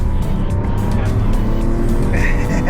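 A Lamborghini Aventador SVJ, a 770-horsepower V12 with a single-clutch gearbox, roars loudly up close as it drives, a continuous heavy engine growl heard from on board.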